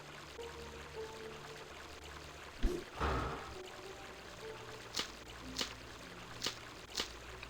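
Running water heard in the fan-made video game Legacy of Kain: Revival, a faint steady flow with a brief louder splash near the start and evenly spaced light drips or taps after it.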